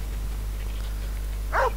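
A single short dog bark from the video game Valiant Hearts, sounding near the end of an otherwise quiet stretch over a low steady hum.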